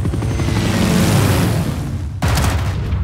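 Helicopter unit attacking barbarians in the strategy game Civilization VI: a loud, continuous rumbling roar of rotor and gunfire, which cuts out briefly and then resumes just as loud.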